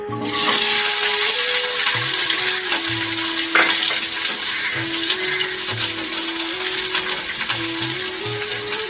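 Small diced potato cubes hit hot oil with tempering spices in a pan and fry in a loud, continuous close sizzle that holds steady throughout, while a faint hum runs underneath.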